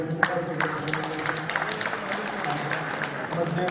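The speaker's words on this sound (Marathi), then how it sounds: "टाळ्या वाजवून" An audience at an activists' gathering in Vangali, Indapur claps, a dense patter of hands over a murmuring crowd, steady and moderately loud throughout.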